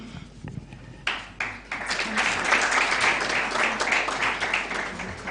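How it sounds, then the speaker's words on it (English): Audience applause at an award ceremony of a moot court competition in Kenya, starting with a few scattered claps and swelling into sustained clapping from a room of people. "Let's clap for them."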